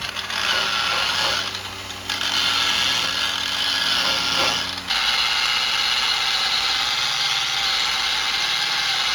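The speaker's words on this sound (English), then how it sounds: "I want to show you how well this tool is working. It's going down to the metal pretty quick." A power tool grinds window adhesive off a car body down to bare metal, running as a loud, steady mechanical whir with a brief dip near two seconds and a shift in tone around five seconds, no talking.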